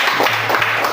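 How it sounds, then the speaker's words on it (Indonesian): Students in a classroom give a short burst of applause for a group, with dense, continuous clapping at moderate loudness throughout the second. "mari kita berikan tepuk tangan pada kelompok 1"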